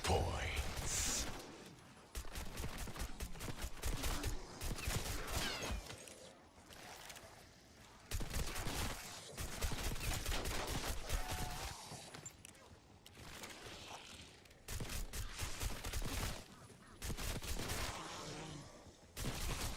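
GS45 pistols fired in Black Ops 6 Zombies: repeated loud bursts of sharp, close gunshots in clusters separated by short pauses, with someone talking between volleys.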